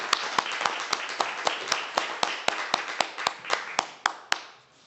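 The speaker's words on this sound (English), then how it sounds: "So another big round of applause for this auspicious moment." Audience applause at a formal memorandum-signing ceremony, steady clapping from a modest crowd with sharp individual claps standing out, fading away at the end.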